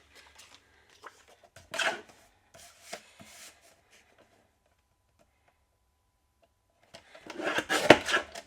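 Craft card pieces are trimmed with short, dry scraping and snipping sounds. They come in a few brief bursts close by, with a long quiet gap before a busier cluster at the end.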